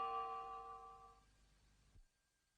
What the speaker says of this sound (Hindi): घंटी बजनी चाहिए।